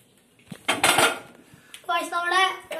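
A metal cooking pan is handled with a burst of clattering knocks, then a brief ringing metallic clang close by.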